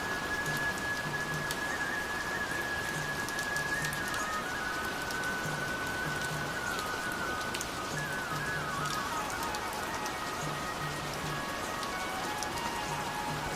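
Heavy, thick rain pours steadily at a mountain ashram near Kartik Swami Temple in Uttarakhand, a dense unbroken hiss of drops striking surfaces, with a faint high whistle and low periodic tones beneath.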